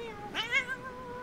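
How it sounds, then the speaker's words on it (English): A cat lets out a drawn-out, wavering yowl that rises and bends in pitch, close and fairly loud, in a short indoor caterwaul with no talking. "That's cat yodeling."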